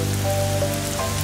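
Rain falls steadily in a short, even wash of hiss at moderate loudness, with a faint tonal hum underneath and no voices.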